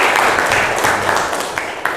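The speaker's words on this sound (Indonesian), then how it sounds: "Tepuk tangan untuk Anissa." A classroom of students applauding a classmate: a dense, steady wash of many hands clapping together for about two seconds, fairly loud and close.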